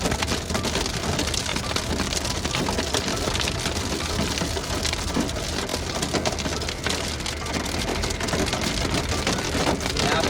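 Hail pelts down steadily during a Canadian tornado-season storm, a dense, loud, unbroken patter of ice on surfaces that runs throughout with no pauses.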